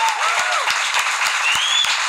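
A crowd in Le Tampon applauds a singer, loud sustained clapping with scattered sharp claps, and a few whistles rising over it.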